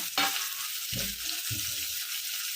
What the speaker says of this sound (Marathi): आता हा कांदा आपला लाल झालेला आहे आता आपण याच्यातनं टमाटे टाकून घेऊ